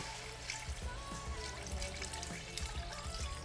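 Water pours steadily into a cooking pot, a soft continuous trickle and splash heard up close for a few seconds with no talking.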